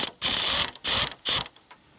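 A ratchet wrench cracks loose a tight strut nut during a Mitsubishi Outlander ZG 40mm lift kit install, three quick bursts of clicking ratchet strokes close up, with short pauses between.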